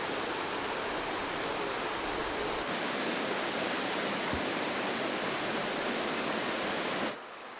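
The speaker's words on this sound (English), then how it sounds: "That kind of slows the flow and then creates that little waterfall." Small waterfall spilling over a calcified hot-spring deposit dam on a river, a loud, steady broadband rush of falling water that continues unbroken before cutting off abruptly near the end.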